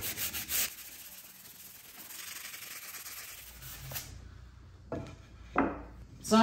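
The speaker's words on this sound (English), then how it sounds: "So sanding it with wet and dry with water and a bit of soap." Gritty rubbing strokes of wet-and-dry sandpaper with soapy water on a wood finish, steady for a few seconds, then a few sharper scrapes and knocks near the end.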